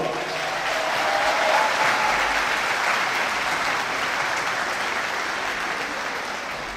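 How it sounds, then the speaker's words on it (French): Warm, sustained applause from a large audience fills a sports hall during a high school challenge event, steady dense clapping that swells slightly then holds for several seconds without any talk. "J'aimerais que tous ensemble, on applaudisse, mais vraiment chaleureusement des deux mains, la section TMD du lycée Carnot."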